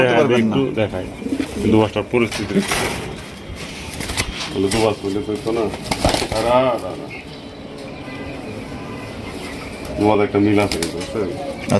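Fancy racer pigeons coo in low, throaty bursts and flap their wings in a few sharp flurries close by, heard under steady conversation between men throughout.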